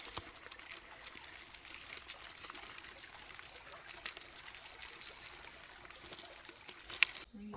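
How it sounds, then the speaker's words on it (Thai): Water trickles steadily in a faint, continuous stream at a waterside spot where traps for giant freshwater prawns are set, with occasional small clicks and splashes and no talk. "น้ำไหลดิ"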